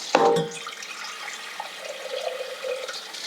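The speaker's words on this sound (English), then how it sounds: "And then run some cold water over it." Cold tap water runs over a bag of cooked spaghetti in a kitchen sink, starting with a sharp splash and then settling into a soft, steady trickle.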